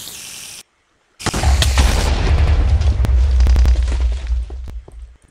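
A TNT block explodes in the Minecraft video game, a loud, booming blast with a deep rumbling tail that fades out over several seconds, following a brief silence.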